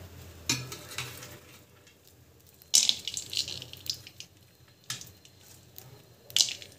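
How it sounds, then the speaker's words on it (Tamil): Chana dal sautéing in hot oil: a faint, continuous sizzle under irregular stirring scrapes and a few louder, splashy bursts as the pan is worked, all close and fairly quiet. "கடலைக்காய் பருப்பு வந்து வதக்கிறதுக்காக நம்ம வந்து போட்டிருக்கோம்."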